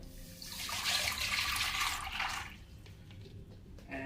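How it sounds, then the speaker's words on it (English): Water being poured from a big cup into a pot for cooking ramen, a close splashing rush for a couple of seconds that tapers off into faint drips. "Water and pour it in here."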